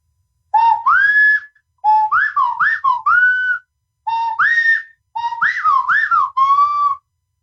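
A handheld bird-call whistle used for hunting imitates the coqui bird: four clear, loud groups of rising, warbling whistled notes separated by short pauses, with no speech.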